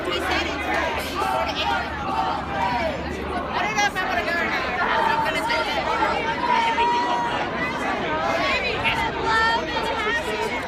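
A large crowd at a march chatters continuously, a dense, loud babble of many voices with occasional raised shouts, filling the space without pause.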